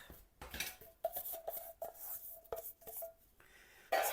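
Shrimp and vegetables for ukoy are dropped into a bowl, giving a series of light clinks, taps and rustles of utensil against bowl, close and fairly quiet.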